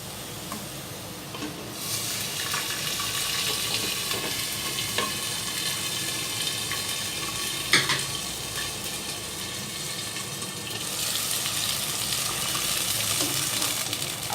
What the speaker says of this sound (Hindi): अब हम इसके अंदर पानी डालेंगे।